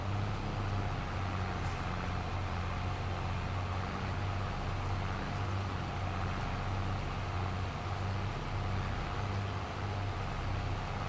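A tractor engine in Farming Simulator 22 runs at a steady low drone, faint and continuous, with no talking.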